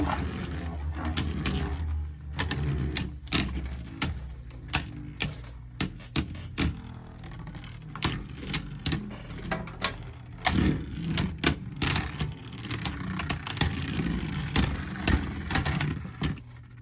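Beyblade Burst spinning tops launched into a plastic stadium, clattering and clicking in rapid irregular collisions with whirring between hits, close and fairly loud.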